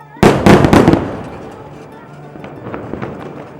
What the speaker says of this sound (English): This is just an airstrike now that you've heard.